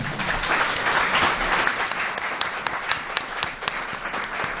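Audience applause at a panel reunion event, sustained crowd clapping that starts as a full wash and thins into scattered individual claps, loud and close.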